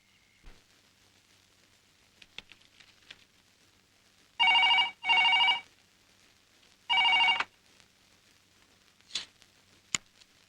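A telephone rings at a ladies' hostel in a film scene, three loud electronic bell bursts in a double-then-single pattern, with faint clicks and quiet room sounds between.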